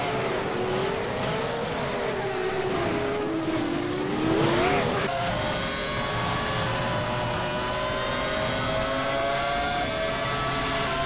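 Race cars scream past on the Suzuka circuit in a racing video game, engines revving with rising and falling pitch as cars overtake, a continuous loud multi-car drone with a sharp Doppler sweep midway.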